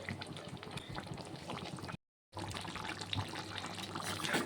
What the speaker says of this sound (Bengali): সামান্য আরও একটু জল দিয়ে দেবো তরকারিটিকে রান্না করে নেব লো ফ্লেমে